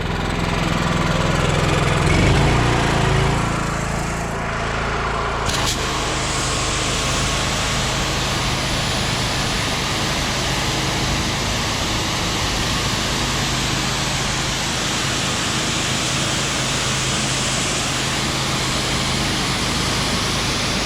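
A pressure washer's small gasoline engine starts and runs steadily at high revs, a loud continuous drone with a hissing spray-like wash over it, while washing a mobile home.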